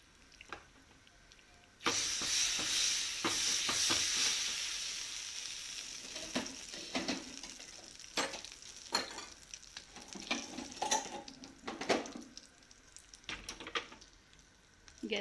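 A pan bursts into a loud, steady sizzle as spices and garam masala hit hot oil for tempering dal, then settles into crackling and spoon-stirring clatter, close up.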